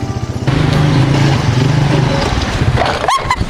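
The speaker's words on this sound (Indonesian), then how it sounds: "Kok dia pakai motor butut kayak gitu?" An old, worn-out Honda Supra motorcycle rides close by, its small engine putting out a steady rough drone for about three seconds before it cuts off into brief shouting voices.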